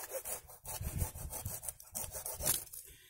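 Cutting off a small shoot from a red banana plant, a steady back-and-forth sawing rasp of a blade through fibrous stem, close and fairly loud with quick repeated strokes and no talking.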